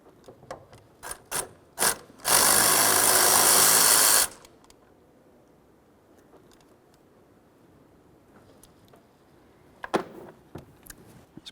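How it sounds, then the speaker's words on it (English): Ratcheting 8mm socket backing out the blower motor resistor screws on a 2001-2005 Ford Explorer, with sparse clicks, a loud steady whir for about two seconds, then faint scattered ticks. "To do that, we'll use an 8mm headed socket."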